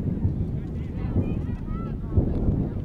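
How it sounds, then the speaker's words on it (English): Wind gusts buffet the microphone outdoors at an afternoon girls' high school soccer match, a steady low rumble swelling in brief surges, with faint voices in the background. "Wind gusting a little bit here this afternoon."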